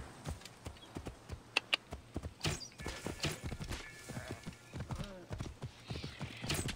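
Horse hooves clip-clop in Assassin's Creed Origins, a steady run of close, sharp hoof strikes on the ground with a brief whinny partway through, and someone speaks briefly over it.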